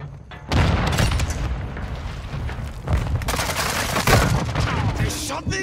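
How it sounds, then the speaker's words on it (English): A grenade goes off in Call of Duty Modern Warfare 2 amid heavy gunfire, with booming blasts and sustained rattling shots filling the scene loudly from start to finish. "Throwing grenade!"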